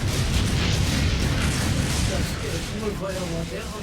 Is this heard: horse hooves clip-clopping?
no